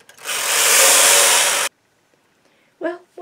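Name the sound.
knitting machine knitting a row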